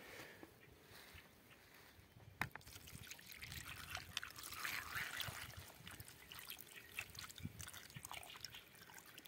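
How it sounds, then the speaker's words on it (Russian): Citric acid and hydrogen peroxide solution poured onto heavily rusted metal, a soft steady trickle and splash of liquid that rises mid-way, with a sharp knock near the start. "Сейчас буду мешать и заливать."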